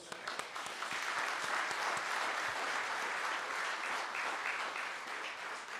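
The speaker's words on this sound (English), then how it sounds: "Round of applause." An audience at a Black Hall of Fame ceremony for Wissahickon alumni gives a full round of applause, a continuous, even wall of clapping that holds steady for several seconds without any voices.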